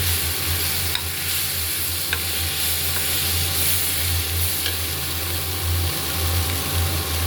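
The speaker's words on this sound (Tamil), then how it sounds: "வரமிளகாத்தூள், மஞ்சத்தூள், காஷ்மீரி மிளகாத்தூள் கொஞ்சம் கலருக்கு இதையும் போட்டு நல்லா வதக்கிடுங்க" Chilli powder, turmeric and Kashmiri chilli powder being sautéed and stirred in a pan, a steady close sizzle with occasional scraping clicks throughout, no talking.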